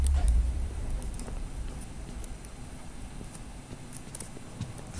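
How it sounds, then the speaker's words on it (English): Footsteps in the video game Five Nights at Freddy's: Security Breach, a steady run of close, soft thudding steps over a dense, noisy game background with no talking. "I hear footsteps!"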